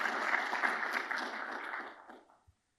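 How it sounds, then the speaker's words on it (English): An audience at an architecture lecture gives a round of applause, a moderately loud, even wash of clapping that holds for about two seconds, then fades quickly into silence with one last stray clap. "they deserve a special round of applause"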